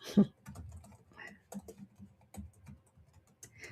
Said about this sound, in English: Typing right now.